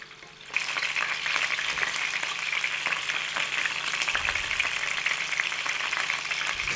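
Seekh kebabs, skewered meat sausages, fry in a pan and are turned now and then. A loud, steady sizzle starts abruptly and carries on without pause, close up. No voices.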